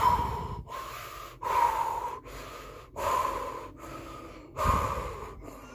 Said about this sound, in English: Why is he breathing like that?